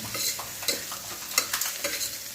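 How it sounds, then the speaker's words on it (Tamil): Sliced onions and tomatoes are stirred and tossed in a hot frying pan for varagu rice biryani, giving a steady close sizzle broken by several scraping spatula strokes, with no voices. "ஒரு நிமிஷத்துக்கு இதை வந்து நல்லா ஒரு கிண்டி விட்டுக்கலாம்"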